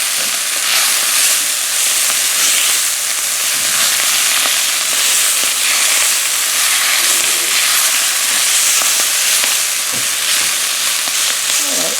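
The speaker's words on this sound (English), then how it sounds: "While the Brussels are sizzling over there" Brussels sprouts sizzle and crackle steadily in a hot cast iron pan, a dense close hiss of frying with small pops throughout and no talking.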